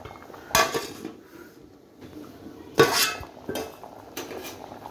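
Metal spoon scraping and clinking against a pot of egg, potato and tomato curry, a few sharp bursts of clatter separated by quieter stirring, close and alone.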